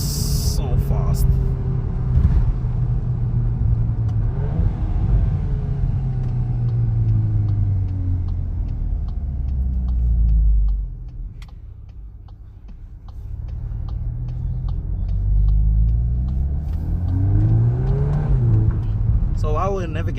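A 2024 VW Golf 8 R Performance Pack with the EA888 Gen 4 engine and DSG pulls hard under acceleration, its rising engine note sweeping up through the gears with a brief dip mid-run. The engine drones steadily close by from inside the car.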